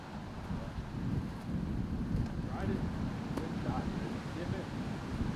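Steady, roaring wind buffets the microphone on a long, tight, tree-lined fairway at a disc golf tournament, constant and loud throughout.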